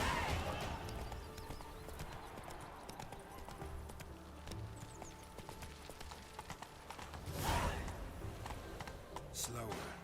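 Roach, a horse in The Witcher 3, trots with a faint, steady clip-clop of hooves under game ambience, with a quiet swell partway through and speech present.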